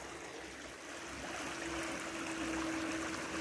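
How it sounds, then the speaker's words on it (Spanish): Gentle, steady flow of a small winter stream running past a weeping willow with moss- and ivy-covered trunk and roots in the water, a soft continuous babble heard alone, with a faint tonal hum partway through. "el sonido del agua"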